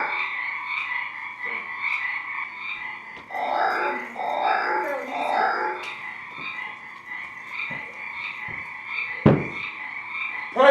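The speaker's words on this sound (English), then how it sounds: "These frogs are driving me crazy." Frogs croaking in a steady chorus of repeated rasping calls, moderately loud, with a few sharp knocks and thumps scattered through.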